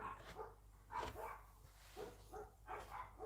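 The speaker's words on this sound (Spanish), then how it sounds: "Están los perros ladrando." Dogs barking at a distance, a few spaced, muffled barks and yips over a quiet background, with no voices.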